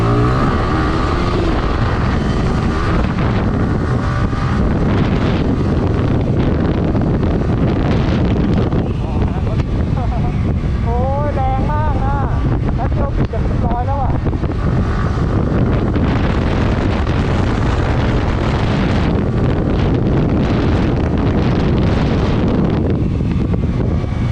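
A Yamaha R15 sport motorcycle accelerates under throttle on an open road, engine note rising through the revs beneath heavy wind buffeting, with someone talking over it.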